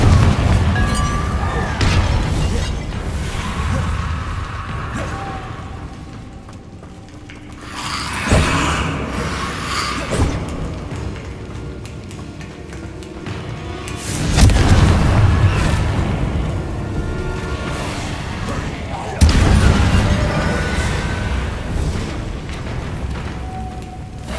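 Repeated blasting-curse explosions in Hogwarts Legacy: deep booming bursts with rumbling tails, several loud blasts spaced a few seconds apart over continuous game ambience.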